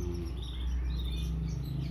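Bright, rapid canary chirps and warbling trills, fairly close, over a steady low background hum; no talking.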